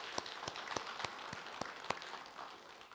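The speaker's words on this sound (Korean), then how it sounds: "함께 박수 한번 하시겠습니다." A church congregation claps together during a Sunday worship service, a quiet, fairly distant round of scattered claps lasting a few seconds.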